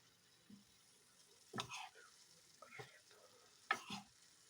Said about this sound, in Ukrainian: Бачите, лучок жарится все тут.